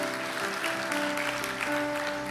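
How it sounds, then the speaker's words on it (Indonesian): A church congregation applauds during a sermon, steady massed clapping over a sustained keyboard or organ tone. "Tepuk tangan buat Tuhan Yesus."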